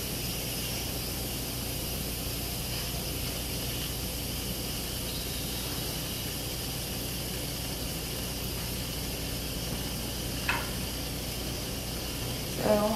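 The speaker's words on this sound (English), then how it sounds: "There's the steam is escaping now." A steady, continuous hiss of steam escaping from an Instant Pot pressure cooker valve while cooking brisket, even and unbroken, with a couple of faint clicks near the end.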